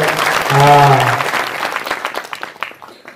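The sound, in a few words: kirtan audience clapping loudly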